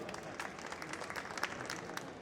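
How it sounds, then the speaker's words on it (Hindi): A crowd claps steadily at a 2025 felicitation ceremony at Rohini Court, with sustained, fairly dense applause and a few sharper individual claps standing out. "प्लीज जोरदार तालियों से स्वागत कीजिए।"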